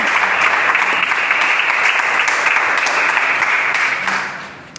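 A church congregation breaks into loud, sustained applause, a thick, close wall of clapping that stays level for several seconds before fading away at the end.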